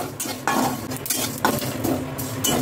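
Dry sesame and fennel seeds rattling and shuffling as they roast in a hot pan, with repeated scraping and stirring strokes and a soft background sizzle.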